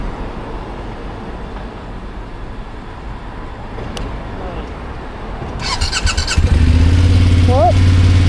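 A new BMW F800GS motorcycle engine starts up partway through and settles into a loud, steady idle close by, with a brief squeal as it catches, after quieter background noise with a voice.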